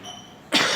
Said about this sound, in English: I'm so sorry that I'm coughing.